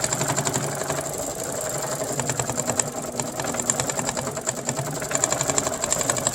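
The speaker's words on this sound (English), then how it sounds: "It does take 19 minutes to stitch out, so I won't make you watch the whole thing, but it will stitch." An embroidery machine stitches out a quilting design for a zippered pouch, a steady fast needle rhythm of dense repeated clicks and motor hum running continuously up close, with no talk.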